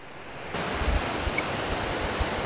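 Mimbalot Falls waterfall in Buru-un, Iligan City, heard as a steady broadband rushing roar of falling water that swells after the first half second and continues evenly, with slight wind buffeting on the microphone.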